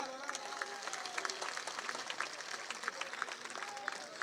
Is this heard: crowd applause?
yes